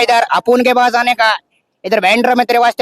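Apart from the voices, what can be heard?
No distinct noise like a dog, phone or traffic.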